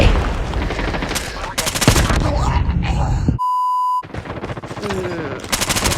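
AS VAL rifle fire in the video game Call of Duty, sharp automatic bursts close up, broken by a steady electronic beep and quieter game sounds, with a voice heard in places.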